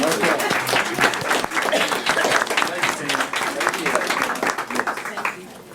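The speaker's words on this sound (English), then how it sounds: "Let's give him a round of applause" Round of applause at a school board meeting, a sustained crowd of clapping hands at moderate distance that tapers off near the end.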